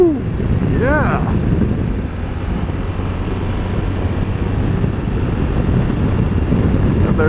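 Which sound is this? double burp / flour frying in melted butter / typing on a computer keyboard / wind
wind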